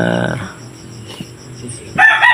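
Chickens in a coop holding about twenty late-hatched one-month-old chicks, with a rooster crowing and birds clucking; a loud call at the start, quieter low clucks through the middle, then a sharper high burst of calls near the end.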